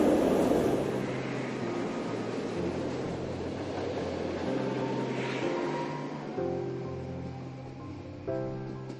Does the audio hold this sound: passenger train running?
yes